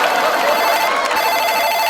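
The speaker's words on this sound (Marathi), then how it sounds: "फोन आला." A telephone rings loudly and close, its bright repeating tone filling the whole moment without any talk over it.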